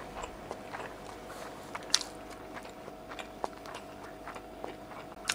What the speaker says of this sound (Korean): 야채에 씹히는 그 오돌오돌 씹히는 게